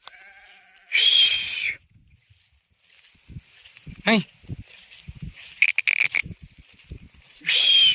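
Two loud, drawn-out sheep bleats, one near the start and one at the end, with scattered shuffling and faint footsteps in between, on a farm beside paddy fields.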